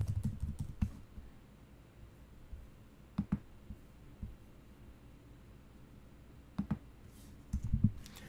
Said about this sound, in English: I can type directly into a text box like so.